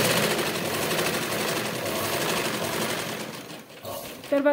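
Sewing machine stitching a princess-cut front panel of a garment, a fast steady mechanical whir running continuously with a brief slowdown near the end, under a woman's quiet speech.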